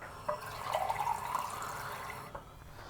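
Water pours steadily from a glass into a bowl of about 500 grams of flour for dough, a continuous splashing trickle for a couple of seconds, close and alone.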